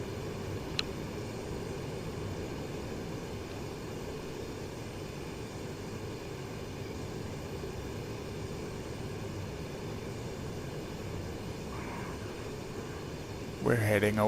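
An airplane engine in the DCS flight simulator game drones steadily and evenly throughout, a constant moderate roar with a brief higher-pitched noise right at the end.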